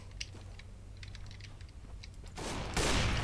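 Rapid gunfire bursts in Counter-Strike: Global Offensive, loud and close in the last second, after a stretch of faint clicking keyboard taps and low hum.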